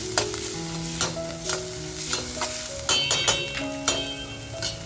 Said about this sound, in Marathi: तर बघा, मसाला सुद्धा आपला छान असा याच्यावर फ्राय झालाय.